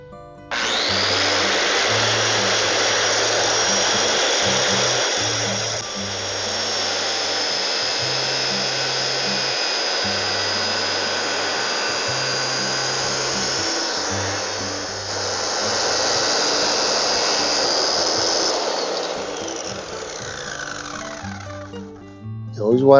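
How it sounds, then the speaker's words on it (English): A power saw cuts a straight line through a wooden board, a loud steady whining roar with a slight dip midway. It runs for about twenty seconds and stops at the end while a person talks throughout. "Turn the saw on, and then concentrate on that line and that mark, and keep it straight as you can."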